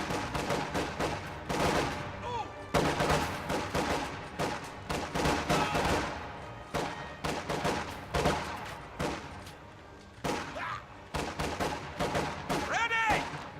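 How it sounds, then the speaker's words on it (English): Small arms gunfire in Company of Heroes 2, dense bursts of rifle and machine-gun shots crackling in irregular rapid clusters over battlefield ambience, loud and nearly continuous with a few brief pauses. "Contact. Small arms fire."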